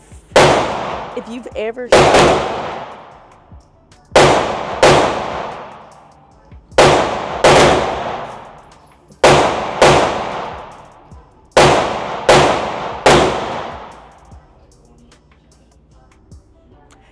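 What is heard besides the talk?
gunfire from PTR MP5 clone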